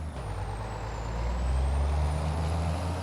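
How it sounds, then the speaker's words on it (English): A truck with a 425-horsepower engine pulls a pup trailer, its engine a steady, loud low drone that strengthens slightly as it runs, with a faint high whine above. "I put the 4 1/4, 425 horse motor on this truck"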